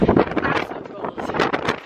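Wind buffets the microphone in loud, rumbling gusts at the Grand Canyon while people talk over it.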